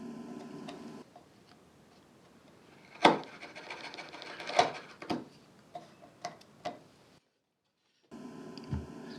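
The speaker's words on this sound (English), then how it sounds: "basically just paring out all the remaining waste to ensure that it will have a nice tight and even fit" A hand chisel pares waste from wooden dovetails for a low-boy furniture drawer, giving close scraping and rubbing strokes with sharp clicks and taps, irregular and moderately loud, with a brief silent gap and no speech.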